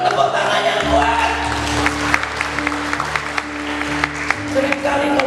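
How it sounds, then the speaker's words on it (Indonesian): Church congregation claps loudly and steadily throughout, with a sustained organ or keyboard chord and low music running underneath. "tepuk tangan yang kuat"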